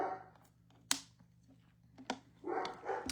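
Dogs barking indoors: a few sharp, separated barks and yelps, fairly faint and close, with quiet household background between them.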